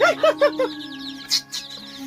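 Several quick, high clucks in a row from chickens close by, followed by softer chirps over a steady hum.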